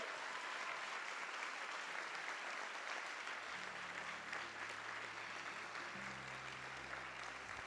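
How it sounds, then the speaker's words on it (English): Graduation ceremony audience applauding, a steady wash of clapping from a large crowd heard at a distance, with low hum entering partway through. "Can we give a round of applause?"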